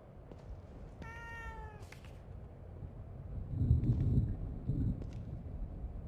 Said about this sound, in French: Un chat.